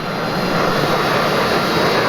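A jet aircraft roars at high power for a short takeoff on runway 09 in the DCS flight simulator game. The roar is loud and steady and comes with no talk.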